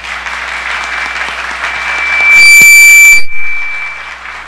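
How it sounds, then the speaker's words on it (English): Audience applause at a formal honours ceremony: steady, full clapping from a crowd, swelling louder before a brief electronic tone sounds near the end. "Please give Mr. Wattler applause"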